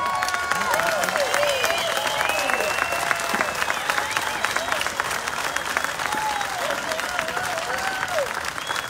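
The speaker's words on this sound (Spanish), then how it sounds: "yo quiero un gran aplauso para este gran elenco de artistas y músicos." Concert crowd at an amphitheater applauding the cast of artists and musicians at a tribute show, loud continuous clapping with cheers and whistles threaded through, steady for the whole stretch.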